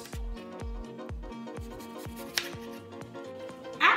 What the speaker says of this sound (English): Then you're gonna cut those into wedges.